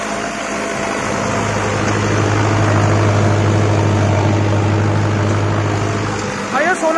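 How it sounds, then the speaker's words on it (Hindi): A Mahindra Novo 605DI tractor runs an 8-foot superseeder at about 1600 rpm on economy PTO, giving a loud, steady engine drone that holds unchanged for the whole stretch, with a short chirp near the end. "एक बार दिखा दो कितने आरपीएम पर ट्रैक्टर चल रहा।"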